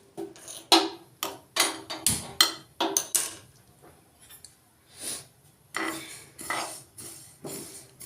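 White sesame seeds roasting in a pan crackle and pop in a series of sharp, close clicks, coming in irregular bursts with short quiet gaps between them.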